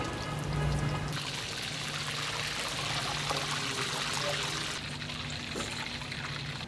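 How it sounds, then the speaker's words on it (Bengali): Marinated pomfret fish fries in hot oil with a steady, bright sizzling hiss that stays even and close, shifting slightly in tone partway through. "এর ভিতরে আমরা পম্পেটটা ফ্রাই করে দেবো।"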